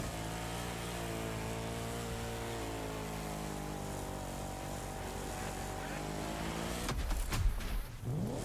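A strange car engine in a racing video game drones steadily with a buzzy, lawnmower-like harmonic whine for most of the stretch, then shifts into a rougher rising rev near the end.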